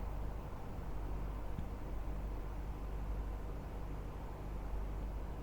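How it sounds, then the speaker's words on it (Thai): Air conditioner humming in a room: a steady, even wash of broadband hiss and low rumble that holds constant the whole time, with no voices over it. "ได้ยินแต่เสียงแอร์"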